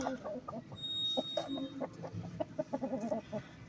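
A broody hen settled onto a clutch of eggs on a farm clucks in short, repeated bursts, some sharper and louder, with a steady low background hum close by.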